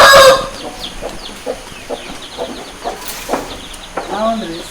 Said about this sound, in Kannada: ಸಂತೋಷ್ ಅವರೇ, ಇಷ್ಟು ಕೋಳಿಗಳನ್ನು ಸಾಕ್ತಾ ಇದ್ದೀರಾ